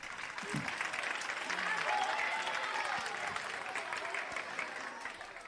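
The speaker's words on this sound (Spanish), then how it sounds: "¿Le podéis aplaudir al poliestireno?" An audience at a chemistry science show applauds after a polystyrene-and-acetone demonstration, a steady wash of clapping that swells and then eases, loud and continuous with faint voices underneath.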